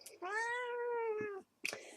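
Persian-Bengal mix cat giving one long, clear, drawn-out meow close by, followed by a brief sound afterward.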